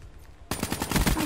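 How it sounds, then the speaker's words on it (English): Rapid automatic gunfire in Call of Duty: Black Ops 3, a loud burst of fast repeated shots that erupts suddenly after a quiet moment and keeps rattling steadily. "Johnny's shooting at the guy across the way."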